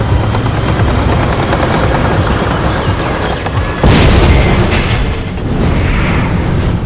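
A homemade anti-tank mine in a wooden box detonates under a tank in a Vietnam battle scene, a loud sudden boom breaking over an already heavy rumbling roar.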